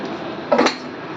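A metal pot of fish curry with potatoes, puti fish and stems is lifted off a kitchen stove, giving one brief clanking knock of cookware, close and clear over a low background hum.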